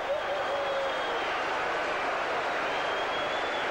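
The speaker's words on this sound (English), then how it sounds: "You listen to the Castleford crowd go wild there" A rugby league crowd at a Castleford match against St Helens cheers after a try, a dense and steady roar of many voices that fills the whole stretch without a break.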